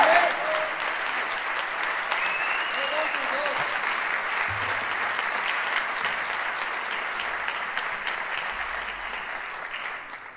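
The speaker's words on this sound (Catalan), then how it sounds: "Un fort aplaudiment." Loud, sustained applause from a concert audience at a cultural centre, a dense continuous wash of clapping lasting around ten seconds and fading slightly at the end.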